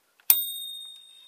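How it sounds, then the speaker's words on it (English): A small bell on a metallic-painted toy model bus gives one bright, sharp ring that hangs in a clear, slowly fading tone, close and alone with no talk. "as you can hear it, it's got a bell."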